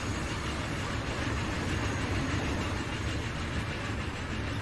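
A small passenger train in the Transport Fever 2 video game rolls along the track close up, a dense steady rumble of wheels and rail noise with faint squeaks running through the whole stretch, no voices.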